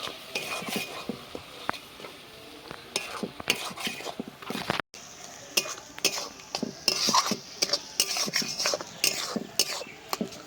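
Jackfruit masala with sour yogurt being stirred and sautéed in a pan, a spatula scraping and clacking against the metal in quick irregular strokes over a soft sizzle, close up with a brief pause midway.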